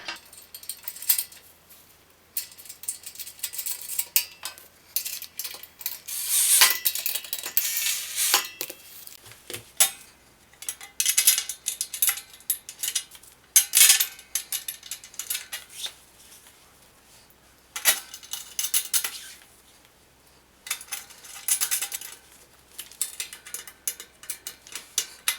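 Metal parts, screws and washers clink and tick as a metal piece is fitted onto a Gude MSKT 760 folding welding table, with scattered sharp clatters and handling noises close by in a quiet room.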